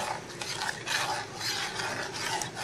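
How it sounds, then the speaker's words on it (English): A spoon stirs a pineapple dessert mixture in a pot, making soft, repeated scraping and rubbing strokes up close, with no voices. "let's now shake it with the spoon"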